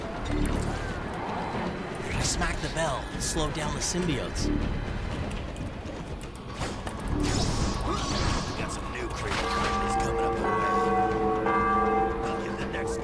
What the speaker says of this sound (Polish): Uderzyliśmy w dzwon.